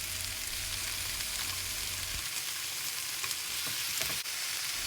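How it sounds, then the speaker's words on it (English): Mushrooms stir-fried on high heat for a spicy vegetarian yaki udon, a steady loud sizzle with light scraping and stirring clatter throughout, no talking. "Add the mushrooms in and season it. And stir it around."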